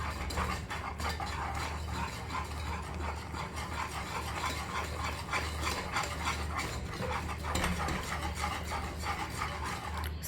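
Gram flour mixture for Mysore pak whisked steadily in a pan over a medium flame, a continuous scraping, rubbing rasp with quick metallic ticks running the whole time, close and fairly loud, with no talking.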